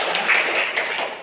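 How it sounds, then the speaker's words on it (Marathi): Brief burst of enthusiastic applause for participants in a Swachh Bharat quiz competition, a dense patter of many hands clapping close by. "जोरदार टाळ्या होते त्यांच्यासाठी."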